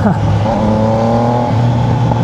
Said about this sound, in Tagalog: Para habang nire-rev mo siya, sige pa, gano'n ang gusto niya eh. Manghihingi pa siya ng RPM.